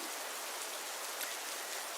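Steady rain pours down outdoors at night, a dense, even hiss of falling drops with no break, fairly quiet and constant throughout with no voices.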